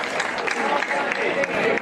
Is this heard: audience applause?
yes